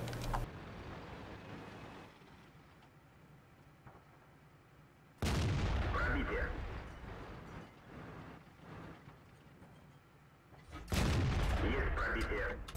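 Tank cannon fire in the tank battle game, with a T-62A firing: two heavy booming shots several seconds apart, each with a loud sharp onset and rumbling decay over a quieter mechanical background, and speech present.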